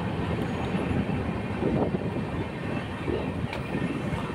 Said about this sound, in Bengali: পাহাড়ের উপর মাঝামাঝি দিয়ে ট্রেন চলে যাচ্ছে